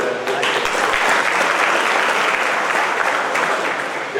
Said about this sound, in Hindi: चलिए तालियां जो है जोर से बजाएं।